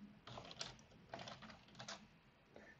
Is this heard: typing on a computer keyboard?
yes